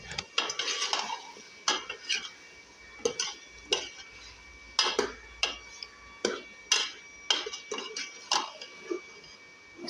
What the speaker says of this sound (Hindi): अच्छे से अब गोश्त की भुनाई करेंगे हम